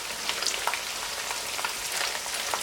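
Ginger garlic paste fries on a high flame in a pan, giving a steady close sizzle and crackle with scattered pops, no voices over it.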